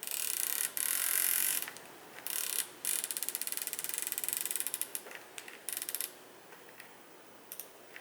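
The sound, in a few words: Leupold Mark 6 scope turret clicking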